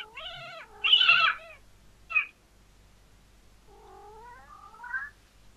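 A cat meows indoors, close by, with a loud drawn-out cry, a brief squeak, then a softer rising meow, in an otherwise quiet room.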